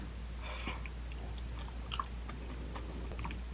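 Homemade rice cake being chewed close up, soft steady mastication with a few crisper bites, no talking.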